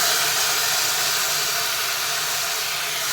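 Raisins frying in hot ghee, a steady loud sizzling hiss that runs unbroken from start to finish with no other sounds.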